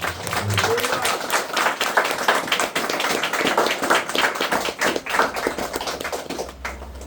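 Church congregation clapping for Jesus Christ during a service, a rhythmic mass of hands striking in quick uneven bursts, close and lively, with voices mingled in and a low hum at the end.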